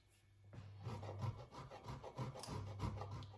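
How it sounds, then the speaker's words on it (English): Fresh Parmesan cheese being grated, with quiet, close, rhythmic rasping strokes repeating steadily after a brief silent start. "I'm going to grate about 30 grams worth of fresh Parmesan cheese."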